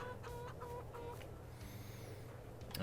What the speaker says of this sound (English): We got our chickens out here.